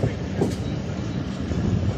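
A Pakistani passenger train on the Jhelum to Lahore route runs along, heard from an open cabin door as a steady, loud rumble and rattle of wheels with wind noise throughout.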